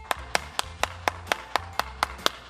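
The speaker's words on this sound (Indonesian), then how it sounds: "tepuk tangan yang meriah untuk filmnya" Clapping for a film shown at an online children's church service, about ten sharp evenly spaced claps from one nearby pair of hands, steady and alone.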